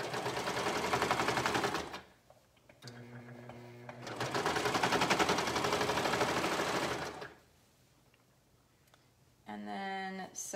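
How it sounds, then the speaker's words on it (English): A sewing machine stitches down a side seam from the end of a sleeve in two long, steady rattling runs of rapid needle strokes separated by quiet pauses, with a short burst of speech at the end. "I'm going to start at the end of the sleeve and sew down"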